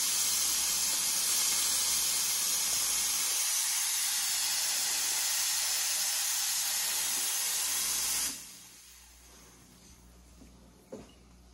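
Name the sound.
espresso machine steam wand hissing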